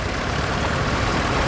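An old Fordson Power Major or Super Major tractor engine idles with a steady, dense low rumble, close and continuous, at an outdoor spring fayre tractor parade.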